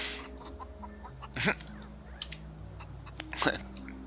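A chicken in the video game Outer Worlds clucking in two short bursts, close and fairly quiet over soft game ambience and faint background tones.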